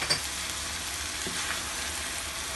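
Onion paste and ginger-garlic paste frying in oil with turmeric and red chilli for chicken ginger, a dense close sizzle with a sharp spattering burst at the start, steady throughout and without any voice.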